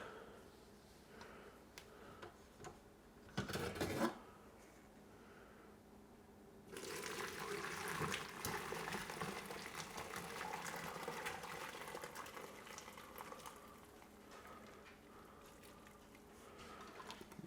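Turkey broth pours and splashes steadily through a strainer into a container, with a brief louder gush early on, then a continuous trickling stream.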